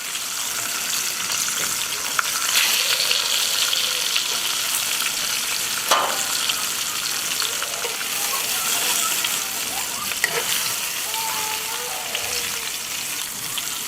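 Veal cheeks sear loudly in a hot Dutch oven, a steady broadband sizzle lasting throughout with a few sharp clicks and scrapes from turning the meat, and no voices.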